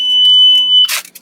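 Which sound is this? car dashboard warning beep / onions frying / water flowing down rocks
car dashboard warning beep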